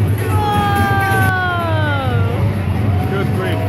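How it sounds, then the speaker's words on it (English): A small fire engine at a Christmas parade sounds its siren, a loud, close wail sliding downward in pitch over a constant engine rumble, with people talking nearby. "a single tiny fire engine"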